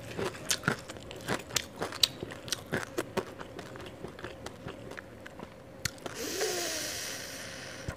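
Crunchy bites and chewing of half-fried jengkol, a series of close, crisp crackling bites at an uneven rhythm, followed by a brief rustling noise at the end; no talking.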